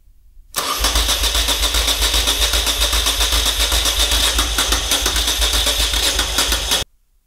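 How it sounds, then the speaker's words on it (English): A Moto Guzzi EV80 motorcycle engine, restarted after ten years with fuel leaks, is cranked and catches, then runs steadily and loudly close by for about six seconds before cutting off abruptly. "I'm just going to give it a bit of a crank and see if it'll go."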